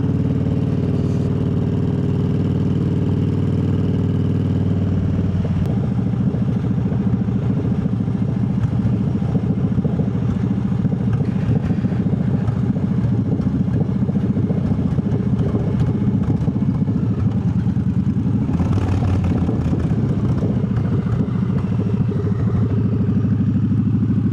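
A Triumph Bobber motorcycle engine rumbles steadily while being ridden at night, a loud, continuous low drone with wind noise that swells briefly partway through, and no speech.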